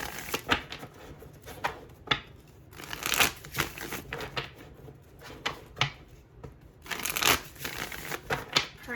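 Tarot cards being shuffled by hand: repeated crisp riffling bursts and soft slaps in an irregular rhythm, close and fairly quiet, with no talking.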